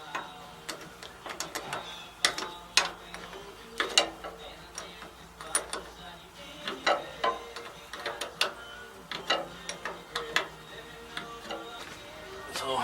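Bolts on the fuel filters of a Massey Ferguson 35 tractor with a Perkins diesel are tightened by hand with a ratcheting tool, giving quiet, uneven clicks and metallic ticks that come close up in short runs.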